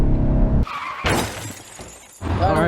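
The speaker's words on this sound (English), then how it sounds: "That was tire slipping, boy." Tires of a Hellion twin turbo Mustang GT slip and chirp under hard acceleration, loud engine roar and tire noise in bursts with a brief lull, close to the car.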